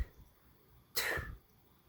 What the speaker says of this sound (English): we're going to blow air starting with that syllable.